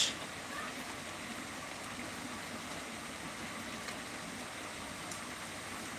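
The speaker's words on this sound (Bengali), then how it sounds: "বৃষ্টি কিন্তু ভালোই নেমে গেছে" Steady rain falls under an overcast sky at the end of the hot season, a continuous even hiss that stays constant at moderate level throughout with no voices.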